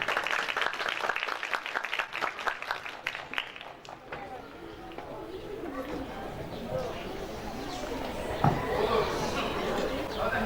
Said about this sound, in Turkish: okul müdürümüz Sayın Mahir Sarıçayır'ı alkışlarla sahneye davet ediyorum